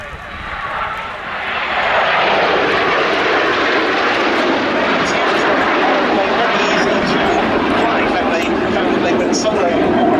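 A Jet Provost trainer aircraft flies past at the Duxford air show, a loud steady engine roar that swells after the first two seconds and holds, with a commentator talking over it.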